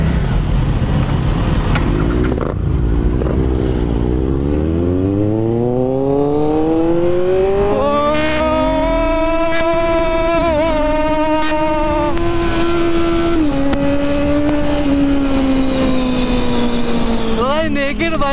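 A naked superbike rides through city traffic, its engine revving up in a rising, climbing whine, then holding a steady, loud drone with shifting pitch, close and continuous with wind rush throughout.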